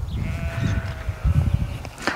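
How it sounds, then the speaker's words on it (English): Sheep bleat in the New Zealand countryside, a few wavering calls at moderate distance over low rumbling background noise, with one sharper bleat near the end. "The sheep are like, they're like naturally made sheep."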